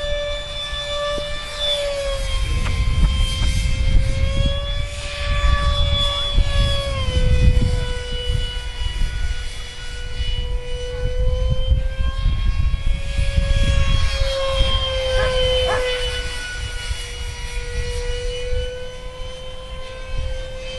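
An RC Skyartec F-16 electric ducted fan plane, cheaply rebuilt and tail heavy, flies overhead with a loud, high whining fan tone that rises and falls in pitch as it passes and circles, continuous throughout.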